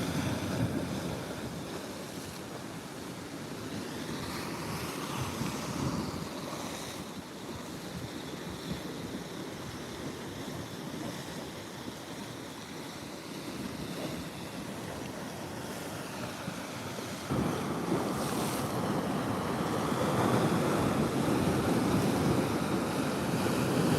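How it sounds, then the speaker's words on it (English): Rough surf at night during high tide, waves dashing against the shore under steady wind buffeting the microphone, with a continuous roar that surges louder near the end. No one speaks. "Waves are dashing in."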